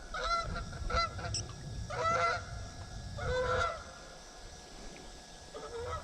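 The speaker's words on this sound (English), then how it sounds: "Geese." Geese honking near a boat dock on a lake, several loud nasal honks in irregular bursts, fairly close, over a low background rumble of water and wind.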